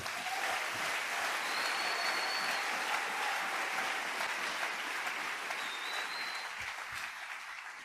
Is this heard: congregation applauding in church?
yes